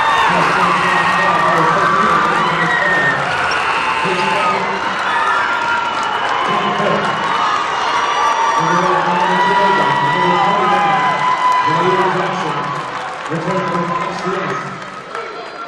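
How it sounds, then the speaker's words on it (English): Basketball crowd at a Holy Cross game roaring and cheering with whoops and shouts, loud and sustained, as a tight lead shrinks, with rhythmic chanting pulses and band-like tones, easing slightly near the end. "this crowd getting louder and louder by the minute."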